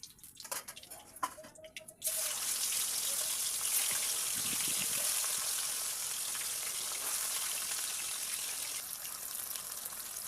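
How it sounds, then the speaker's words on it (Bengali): Fish fries in hot oil, a few clinks and taps giving way after two seconds to a loud, steady sizzle and crackle that carries on without talk. "এইভাবে সব মাছগুলো লাল লাল করে ভেজে ভেজে নেব"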